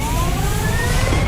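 A spaceship's engines in Starfield start up as a loud, steady, dense rumble with a faint rising whine layered on top, continuous throughout without pauses.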